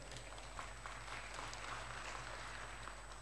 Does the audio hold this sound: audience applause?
yes